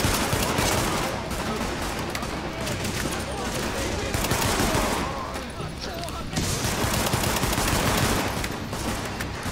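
Dense, loud gunfire from The Division keeps up in rapid bursts, including pistol shots, with a short lull in the middle. A voice talks throughout.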